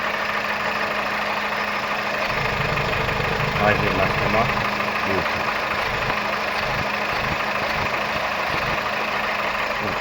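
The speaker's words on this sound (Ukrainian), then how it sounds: "Мотор рівненько працює," A 2010 Volkswagen Golf 6 1.4 petrol MPI engine idles steadily and evenly with a constant hum while someone speaks briefly nearby.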